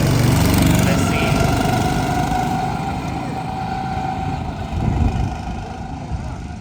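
Small bumper car engines buzz and drone at Sylvan Lake, Alberta, a steady close motor hum with a brief louder surge near the end.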